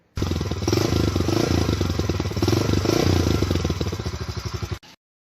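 A Yamaha YBR 125G motorcycle with a 125cc single-cylinder engine runs close by, a loud, steady, throbbing idle with rapid mechanical clatter and slight swells in revs, cutting off abruptly near the end.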